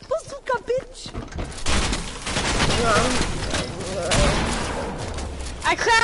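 Video game combat with a bazooka blast and gunfire, a dense, sustained burst of shooting and explosive noise following brief shouted voices, loud and close, with more talk near the end.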